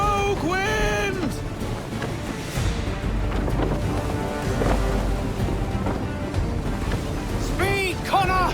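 Wind and sea noise around a sailing ship in the video game Assassin's Creed III, a steady broadband rush with surf-like swells, while voices shout over it at the start and end.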